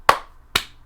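Two sharp, close hand claps ring out about half a second apart, each crisp with a short decay, in an otherwise quiet room.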